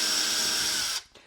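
A power drill drives a screw into a wall board while mounting a TV, a loud, steady high-pitched whine held for about a second, then cutting off abruptly.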